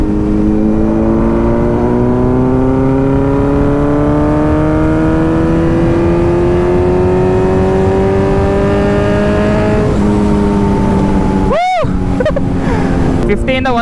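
A Kawasaki Z900 motorcycle engine revs while riding. It gives a loud, steady, rising drone through the run, with a sharp burst near the end and heavy wind buffeting throughout.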